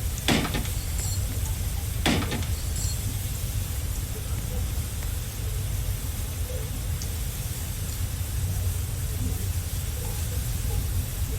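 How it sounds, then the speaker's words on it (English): Steady loud hiss of steam venting aboard the sinking RMS Titanic in a video game, continuous broadband rushing throughout with a couple of sharp clicks early on. "You can hear that steam that they were referring to."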